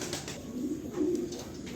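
Soft, low pigeon coos from a white pigeon repeat twice in a short gentle rhythm, close by, with faint background noise.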